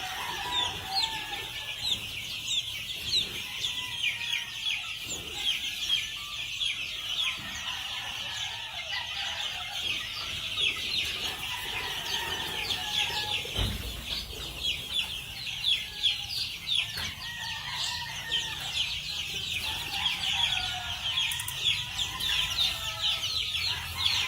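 Chickens clucking and roosters crowing at a gamefowl farm in the morning, a busy continuous chorus of overlapping clucks and calls from birds both near and farther away, with no talking.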